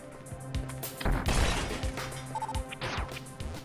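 Bomb explosions breaking destructible blocks in the Metroid remake AM2R: a cluster of loud crunching blasts in the middle, followed by scattered smaller thuds and game effects over a steady background hum.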